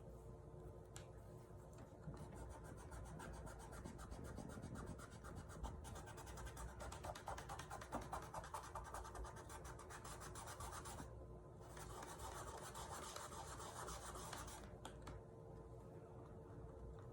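Close, steady rubbing and rasping of paint being worked from the center of a laser-cut wood sign, continuous scratchy strokes with brief pauses, no talking.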